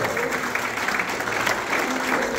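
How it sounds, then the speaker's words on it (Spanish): A congregation in a church claps together in sustained applause, a dense, even patter throughout with no voices standing out. "Denle un aplauso fuerte,"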